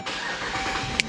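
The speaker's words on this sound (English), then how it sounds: "restarting the engine." The 5.7 Hemi engine of a 2014 Jeep Grand Cherokee cranks and catches in a short burst of starter and engine noise, close by and ending with a brief sharp click.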